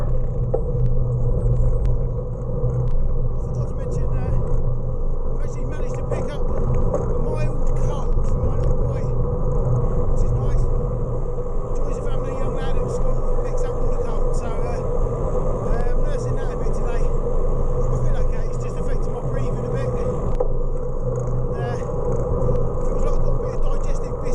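A car engine idles at traffic lights behind a diesel van, a steady low rumble running throughout with faint higher traffic noise layered above.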